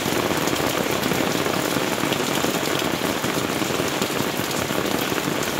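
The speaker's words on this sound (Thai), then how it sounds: "ฝนตกจ้าพี่น้องจ๋า" Heavy rain pours down steadily and loudly, a dense, unbroken wash of drops drumming on surfaces close by, with no voices over it.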